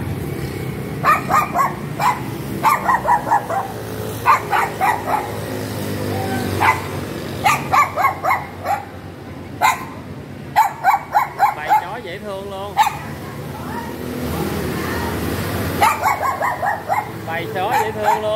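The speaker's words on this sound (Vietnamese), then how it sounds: "Trời ơi, một bầy chó dễ thương luôn." Pack of puppies barking and yipping in short bursts, close and loud, with whimpers between the barks and people talking excitedly over them.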